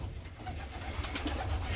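Young grizzle pigeons coo softly in a loft, with low repeated murmuring calls over a constant rustling background and no talk.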